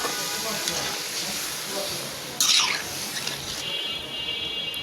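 Water splashes with a sudden hiss into a pan of sizzling fish curry with potatoes and olives, cutting into the steady close-up frying noise.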